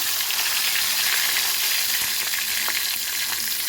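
Chopped tomato fries in hot oil with asafoetida for a soybean kofta curry, making a loud, steady close sizzle with occasional pops and light stirring scrapes. Nobody talks.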